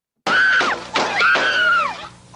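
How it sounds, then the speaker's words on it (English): Screams from recorded footage of a shooting, the 1972 attack on Alabama Governor George Wallace: two loud, sustained high-pitched wails that rise and fall, separated by a brief break, with no speech. "Do you hear the screaming?"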